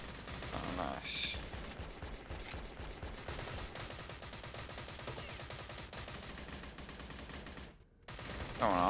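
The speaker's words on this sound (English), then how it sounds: "They're just friendly shooting at each other." Gunfire from players shooting at each other in the online shooter game Stalcraft, with sustained distant bursts and rattling shots running throughout and a voice talking over part of it.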